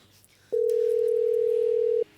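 A steady telephone dial tone sounds alone for about a second and a half while a call to daddy is being placed, starting and stopping abruptly over a quiet room.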